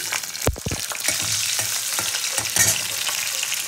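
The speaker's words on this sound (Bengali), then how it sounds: "পাঁচফোড়নটা একটু ভাজা হয়ে গেলে চেরা কাঁচা লঙ্কা দিয়ে দিলাম" Panch phoron and slit green chillies fry in oil, producing a loud, continuous sizzle with a sharp crackling burst near the start as the chillies hit the pan, then steady spattering.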